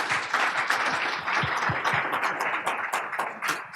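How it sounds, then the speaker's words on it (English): A round of applause for conference panelists at a sales and marketing event for industrial manufacturers: dense, steady clapping from a sizable audience, filling the room evenly for the whole stretch. "if you can give a round of applause for our panelists who've come in"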